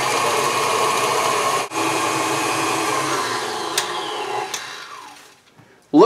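Electric mixer running at medium speed through white chocolate pie filling, a steady loud motor whir with a brief dip partway through, then fading out near the end.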